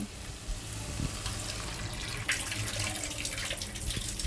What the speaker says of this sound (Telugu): ఇప్పుడు నేను ఎసురు పోసుకుంటాను